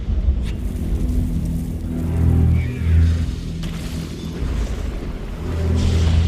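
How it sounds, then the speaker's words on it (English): A bloodstone explosion in the Guild Wars 2 video game comes through as deep booming rumbles that swell in two waves and then build again, loud and low, with no speech over it. "That bloodstone explosion seemed to trigger some sort of magical echo."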